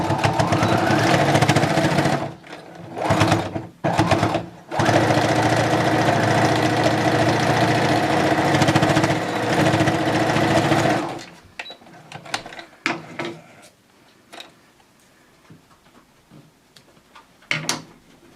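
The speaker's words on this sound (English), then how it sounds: "we are going to sew those together" A sewing machine stitches the two ends of a fabric headband together, its motor buzzing in long steady runs broken by short pauses, followed by quieter clicks and handling noises.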